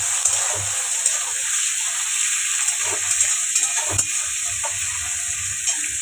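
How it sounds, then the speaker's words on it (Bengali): Chicken pieces dropped into a pan of lightly fried onions give a steady, close sizzle and hiss, with soft stirring clatter breaking through now and then. "তো আমি এবার চিকেনটা দিয়ে দেবো।"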